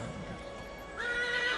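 A horse neighs in a loud, quavering whinny that rises sharply and holds briefly, heard close up with no talking.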